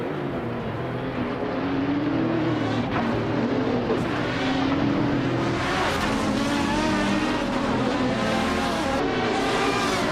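Cupra GT race cars in a racing video game drone loudly and steadily, with overlapping engine notes rising and falling as cars pass one another throughout.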